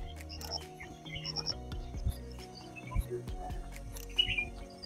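Scattered high chirps and tweets from several birds at Renuka Ji Lake, fairly faint and spread out, over a low rumbling background with some indistinct voices.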